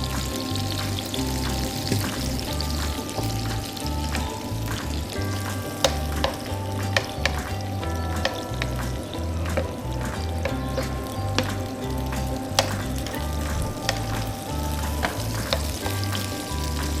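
Finely knife-chopped mackerel and other ingredients brown together in a pan, a loud, steady sizzle with a bubbling low rumble and frequent stirring clicks, close and continuous.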